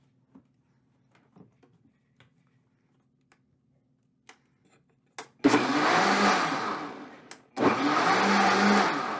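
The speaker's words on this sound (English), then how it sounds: "We're going to pulse it until it's thoroughly blended." Blender pulsing a keto pumpkin spice latte: two loud whirring bursts, the first about two seconds long and the second starting shortly after, each ending abruptly, following near-silence with a few faint clicks.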